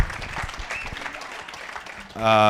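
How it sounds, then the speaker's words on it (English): Audience applause at an auctioneering college class auction, a steady wash of clapping with someone talking over it, ending in a brief loud tonal sound. "How about a round of applause for that?"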